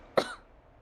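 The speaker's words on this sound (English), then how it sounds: "Coughing fit." One sharp cough bursts out close by and trails off quickly into quiet room tone, with no talking around it.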